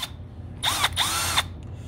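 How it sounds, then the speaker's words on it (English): A Milwaukee brushless Gen 2 hammer drill whirs up in two short, close bursts with a brief pause between, its high motor whine rising and falling as the trigger is squeezed and released. "Gen 2 hammer drill."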